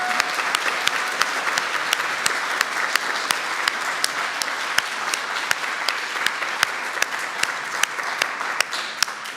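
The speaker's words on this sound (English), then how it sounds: "let us give you a round of applause" An audience at a Falling Walls Lab event in Edmonton gives a round of applause, steady dense clapping from many hands with a few sharp, distinct claps standing out close by.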